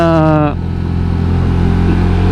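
A motorcycle fitted with a replacement engine runs steadily at idle, a loud close low drone with a droning hum throughout; a brief rising tone opens the sound before it settles.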